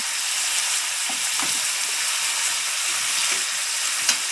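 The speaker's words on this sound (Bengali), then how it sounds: "ভালোভাবে নাড়িয়ে নিচ্ছি এবার আমি দিয়ে দেব কাঁচা লঙ্কা বাটা জিরে বাটা" Loud, continuous sizzling of chicken frying in a pan with green chili and cumin paste, with faint stirring scrapes underneath, close and steady throughout.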